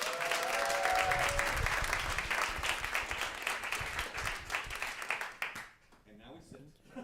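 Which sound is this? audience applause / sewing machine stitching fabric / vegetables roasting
audience applause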